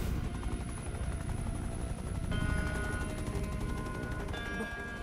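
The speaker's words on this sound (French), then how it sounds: "Bon, l'hélico, tu me vois pas," Helicopter in the video game Infamous First Light, a continuous loud rotor and engine drone layered with game music and effects, steady throughout with no one speaking.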